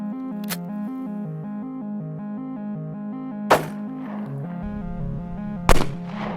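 Pistol shots fired into a ballistic gel block ring out as three sharp, isolated bangs over a sustained musical background tone, the last one loudest.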